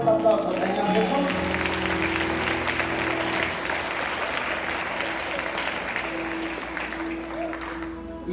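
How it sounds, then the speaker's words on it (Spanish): A church congregation applauds during a sermon, a sustained, fairly loud patter of clapping with steady tones from music or a held voice running beneath it. "Yo le doy un fuerte aplauso al Señor Jesús."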